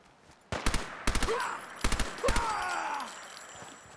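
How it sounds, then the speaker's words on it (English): Rapid bursts of automatic SMG fire in Fallout 4, several short volleys cracking out close and loud over game ambience, with brief pauses between bursts. "Kind of want to use my fancy SMG."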